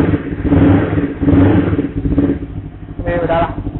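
A Kawasaki Ninja 250 Fi motorcycle engine with a carbon exhaust rumbles with a deep, bassy exhaust note, revving in pulses indoors, close by and loud.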